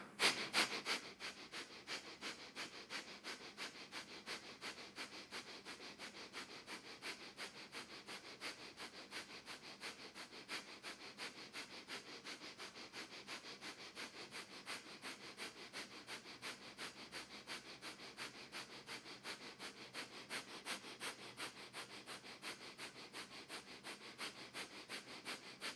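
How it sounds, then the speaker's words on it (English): Breath of fire during a Kundalini yoga morning kriya: rapid, evenly spaced nasal breaths, about three per second, quiet and close, continuing without a break and with no talking. "begin breath of fire"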